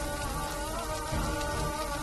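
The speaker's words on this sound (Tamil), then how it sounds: "அகிலா, பார்வதி அம்மனை வேண்டி மழைய வர வச்சு உன்னை காப்பாத்திட்டா." Steady rain falls in a dense, even hiss that does not pause, moderately loud with no voices over it.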